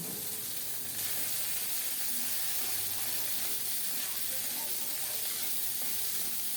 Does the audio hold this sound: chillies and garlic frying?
yes